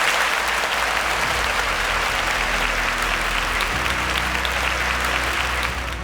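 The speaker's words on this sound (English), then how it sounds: "A round of applause." A studio audience at a quiz show claps loudly and steadily for the whole stretch, a thick, even wash of applause with no talk.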